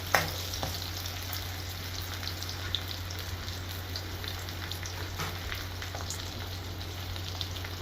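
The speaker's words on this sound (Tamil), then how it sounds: "அந்த ஒரு தக்காளியையும் நான் இந்த எண்ணெயோடு சேர்த்து நல்லா வதக்க போகிறேங்க" Tomato sautéing in hot oil in a pan for mutton thokku, a steady close sizzle and crackle that runs throughout with a few faint stirring clicks and no voices.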